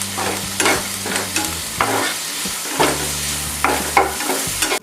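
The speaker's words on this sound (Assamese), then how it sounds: "মছলাখিনি অকণমান ভাজা গোন্ধ অহালৈকে" Spices stir-fried in a pan for shahi paneer sizzle steadily while a spoon scrapes through them in repeated, rhythmic strokes, close and fairly loud with no talking.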